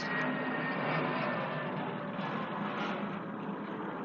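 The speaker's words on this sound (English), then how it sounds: "I'm sorry about the plane" A propeller or jet airplane passes overhead, a steady broad roar filling the whole clip at fairly even loudness with no talking over it.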